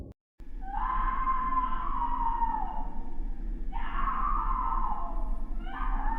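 Screaming from the horror video game Terrors to Unveil, heard as long, wavering wails over a constant low droning background, rising and fading in repeated stretches with no talking.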